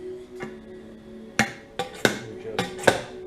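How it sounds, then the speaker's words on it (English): A slide hammer strikes repeatedly to separate the fork tubes of a 2008-2012 Kawasaki Ninja 250 motorcycle. About five sharp metallic knocks come at irregular intervals, close and loud, over quiet background. "Just slow, consistent, forceful slide hammer strikes, and it will pop out."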